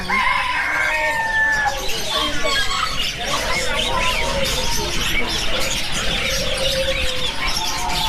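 Chickens squawking and clucking continuously amid a bustling poultry shop at a market, a dense chorus of birds close by with a constant busy background hum and scattered voices.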